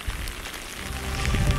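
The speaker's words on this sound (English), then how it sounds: "And then it rained and I got soaking wet." Steady rain pattering on a surface in New Brunswick, a dense continuous hiss of drops close by with no voices.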